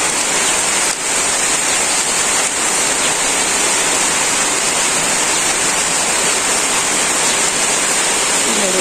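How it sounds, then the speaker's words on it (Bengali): Rain coming down in a village, a dense continuous hiss of drops on surfaces, loud and steady throughout with no break. "তো বৃষ্টি শুরু হয়ে গেল"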